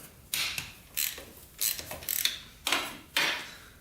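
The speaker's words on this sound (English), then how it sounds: "Let's try to get these head bolts off." A ratchet wrench clicks in repeated short bursts, about six strokes, loosening 12 mm cylinder head bolts on a Yamaha Raptor 700 ATV that sat outdoors for years; close, crisp mechanical ratcheting with no talking.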